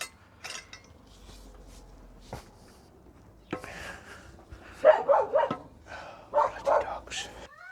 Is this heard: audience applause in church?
no